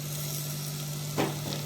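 Small nettallu fish dropped into a hot cooking pan, a continuous loud sizzle with a brief burst of added crackle near the end, no voices.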